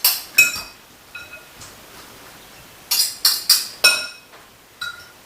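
Utensils clink sharply against a dish while a summer squash pasta-style mix is tossed: scattered single clicks, then a quick run of four or five bright taps, close and clear in a quiet room.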